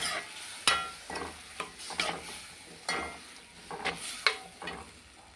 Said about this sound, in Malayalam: അപ്പോൾ അതൊന്ന് ഇളക്കി യോജിപ്പിക്കട്ടെ